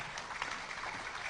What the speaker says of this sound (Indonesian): Tepuk tangan buat Pak Fadli.